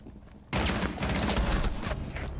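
Rapid gunfire bursts out in a tactical shooter match with Operator Brava, a dense fusillade of close shots that starts suddenly after a quiet moment and rattles on to the end.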